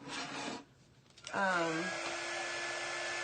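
A hair dryer drying paint on a craft surface: a brief rubbing noise, a pause, then the dryer switches on with a rising whine into a steady close whoosh.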